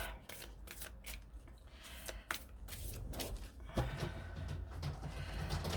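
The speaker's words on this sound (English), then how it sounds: "Wait, let me shuffle at least a little bit." Oracle cards riffle and slap together in quick repeated bursts, close up and crisp, a brief pause between shuffles.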